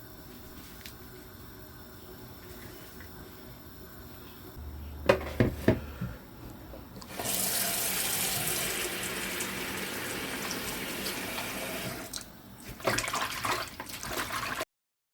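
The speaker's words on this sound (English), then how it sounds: "pick that and wash it up nicely" A handful of leafy greens being washed for spicy cow meat and yam pepper soup under a running kitchen tap: quiet handling and clinks at first, then a loud, steady stream of water for several seconds before it cuts off, with no talking.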